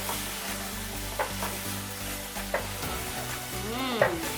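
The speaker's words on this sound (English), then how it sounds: "Then I'm going to give it a good stir." Liver fry sizzling with curry powder and crushed stock cubes in a pan as it is stirred, a continuous close sizzle with occasional scraping spoon strokes and a low hum underneath.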